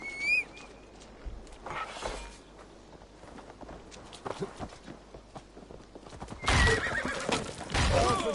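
A horse in the Assassin's Creed Valhalla video game whinnies sharply and gallops off, its hooves clip-clopping in an uneven run. Loud neighs burst out near the start and again toward the end over the drumming hoofbeats.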